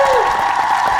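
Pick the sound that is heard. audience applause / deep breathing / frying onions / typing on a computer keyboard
audience applause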